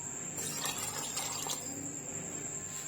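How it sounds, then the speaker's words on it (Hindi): Water pours steadily into a cooking pot holding onion and tikka masala, a continuous close splashing rush that lasts throughout with no talk. "अब मैं इसमें पानी ऐड कर रही हूँ।"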